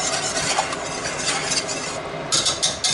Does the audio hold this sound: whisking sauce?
yes